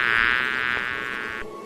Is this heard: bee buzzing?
yes